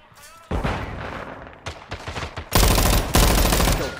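Dense automatic gunfire and rapid bursts from the video game Modern Warfare 2, building from a quieter stretch into loud, sustained volleys with sharp repeated shots throughout.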